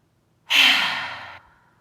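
One deep cleansing exhale during pranayama breathing practice, a single close, breathy sigh that swells quickly and fades away over about a second.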